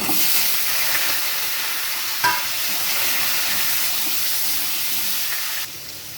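Cut potatoes fry in hot oil with bay leaf, whole garam masala spices and dried red chilli, giving a steady close hissing sizzle, a brief clatter of stirring partway through, and a slight drop in intensity near the end.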